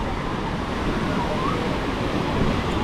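Sea waves break at a small beach by the city walls in Dubrovnik, Croatia, making a steady, close, broadband wash of surf that fills the whole stretch without pause.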